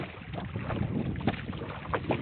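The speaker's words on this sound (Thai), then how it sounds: "ลมยังแรงอยู่เลย" Strong wind buffets the microphone beside a pond used for crab trapping, a continuous rough rumble with gusty swells and no voices.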